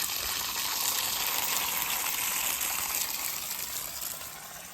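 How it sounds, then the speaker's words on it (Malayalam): Running water pours steadily onto garden plants, a continuous broadband gushing that holds at an even, fairly close level before easing off slightly at the end, with no talking. "ചെടിക്ക് വെള്ളം നനയ്ക്കാം."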